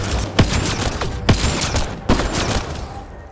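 Gunfire in the video game Mass Effect Andromeda, with several sharp, loud shots spaced about a second apart over a dense, continuous rumble of combat noise.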